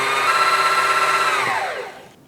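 A Janome SD2014 sewing machine winding thread onto its bobbin, giving a steady, loud motor whine close by that holds its pitch and then winds down and fades as the machine slows to a stop.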